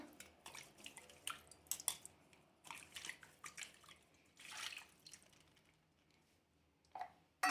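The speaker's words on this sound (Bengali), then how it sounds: "এবার আমি বাটিটা একটু ধুয়ে নেবো।" A bowl being washed with water: scattered splashes, drips and rubbing sounds come up close at a quiet level in uneven bursts.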